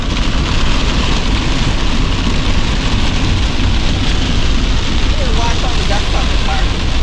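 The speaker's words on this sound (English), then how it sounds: "That is a downpour." A heavy monsoon downpour drums loudly and steadily on a car during a storm, a dense, unbroken roar of rain on the roof and glass, with faint voices briefly in the mix.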